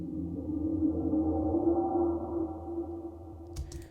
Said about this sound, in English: this like atmospheric pad come in